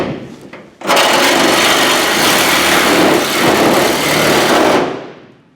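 A Sawzall reciprocating saw cuts a hole through the hood of a Dodge Demon, a loud, steady buzzing rasp that starts abruptly after a brief quiet lead-in, holds nearly unbroken for about four seconds, then stops.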